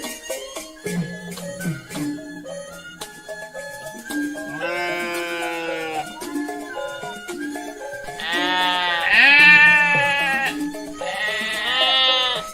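Goats bleating at a livestock market in a cartoon: a run of loud, drawn-out bleats, several overlapping and wavering, rising in intensity toward the end with short gaps between calls.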